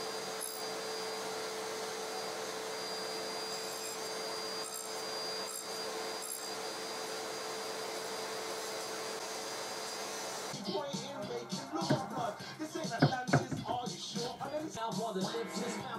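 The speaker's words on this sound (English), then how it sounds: "lined up the blade with those marks to cut a test piece" A power saw blade whirs steadily, then bites into a test piece of pine in a woodshop, giving a rougher, louder cutting burst near the end, close up.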